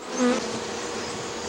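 Honeybees buzzing as they gather pollen at flowers, packing it into the baskets on their hind legs; a steady, close insect drone with a slightly louder swell near the start.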